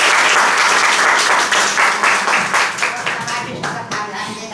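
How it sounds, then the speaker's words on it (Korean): Steady applause from guests filling a 90th birthday celebration, dense and loud throughout, with faint voices mixed in beneath the clapping. "박수 한번 주세요."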